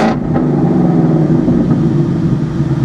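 A damaged car's engine runs at an auto auction yard, holding a loud, steady drone close by with no talking over it.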